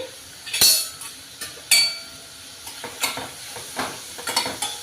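Onions frying in a pan until brown, a soft steady sizzle beneath repeated loud metallic clinks and scrapes of a spoon stirring against the pan, close up, with no one speaking.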